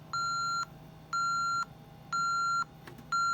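A home security system sounds its entry warning after a door is opened: steady, loud electronic beeps repeat in even half-second pulses with short gaps, over a faint room hum.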